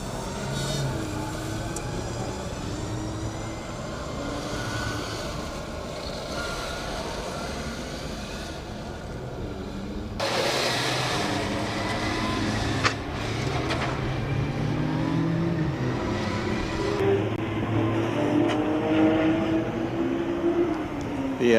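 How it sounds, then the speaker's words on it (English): Porsche sports cars lapping an adjacent track at the Porsche Experience Center, beside a Formula Student endurance event: continuous engine roar, fairly loud, swelling and revving throughout with no clear gaps. "The Porsches on the adjacent track, the Porsche Experience Center, making most noise on track at the minute."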